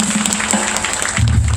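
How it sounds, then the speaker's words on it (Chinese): An audience at an outdoor band concert in a sports park claps, fairly loud, scattered applause with a low hum of amplified sound underneath, no speech on top. "给自己一个掌声鼓励好不好"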